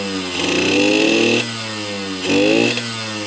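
Close up, a Yamaha YSR50 two-stroke mini bike running with no airbox revs twice in quick bursts, its carburetor intake roar rising sharply over a buzzy idle.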